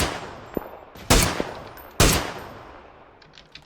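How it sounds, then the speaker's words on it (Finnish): Gunfire in a PUBG match, with two loud sharp shots ringing out about a second apart and some fainter distant pops around them, no talking. "Nyt mua ammutaan."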